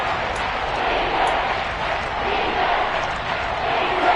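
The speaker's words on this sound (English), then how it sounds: "This red zone is where the Seahawk crowd really makes it tough for an offense to communicate" A Seahawks home stadium crowd roars in the Madden 21 football video game, a dense, sustained wash of cheering and shouting that swells and dips slightly, loud and continuous throughout.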